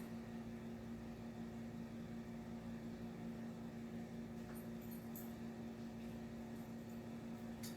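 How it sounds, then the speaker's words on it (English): A household dishwasher and air conditioner hum together as a steady, even drone with a constant mid-pitched tone. The sound holds level throughout, with faint clicks and rustles over it. "My dishwasher and my air conditioner are both running."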